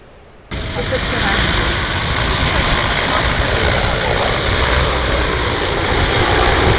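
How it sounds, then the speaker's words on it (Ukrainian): A converted agricultural drone rigged for demining with a magnetometer hovers nearby, its rotors producing a loud, steady buzzing whir that starts abruptly and holds constant throughout. "Раніше це був звичайний агротехнічний дрон. Зараз його доопрацювали."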